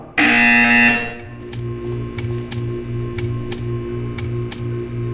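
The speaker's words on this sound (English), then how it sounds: "When you hear the buzzer, stare at the art." A loud, sustained electronic buzzer from the Portal 2 video game sounds for about a second, then gives way to a quieter humming background punctuated by a regular series of sharp ticking clicks.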